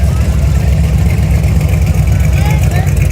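A modified Jeep with a non-Jeep engine rumbles steadily at a low idle, loud and close, with no clear revving.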